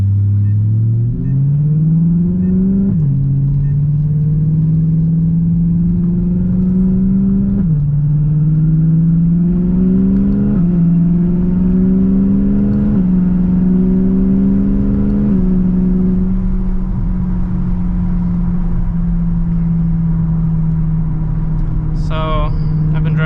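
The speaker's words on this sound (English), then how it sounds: "So I've been driving 3-4 minutes now, and the car still really isn't warmed up yet." A BMW E92 M3 is driven gently while still warming up, its engine droning steadily with several upshifts marked by drops in pitch, and talk running throughout.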